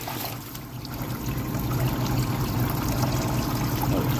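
Coolant drains steadily from the water pump of a BMW 335i with the subframe slightly lowered, a continuous trickling and pouring stream close by that grows a little fuller partway through, with no talking.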